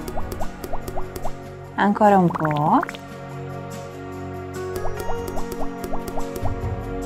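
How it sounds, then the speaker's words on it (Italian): Cartoonish liquid pouring in a children's doctor game as sea water is added for nose drops: bursts of bubbly rising gurgles before and after a short spoken line, with soft game music underneath. "Mi serve un po' di acqua marina."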